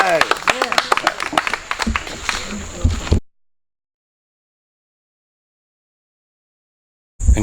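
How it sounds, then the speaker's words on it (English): A community awards gathering breaks into a brief burst of clapping, sharp close claps with some murmuring, cutting off abruptly into silence before a short return of sound. "So let's give ourselves a round of applause."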